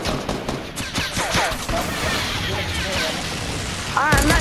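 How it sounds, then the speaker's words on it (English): A pumpkin launcher fires in a Fortnite match, with rapid explosive bursts and crashing impacts amid chaotic battle noise, plus a brief whooshing sweep near the end. "I'm shooting pumpkin launcher."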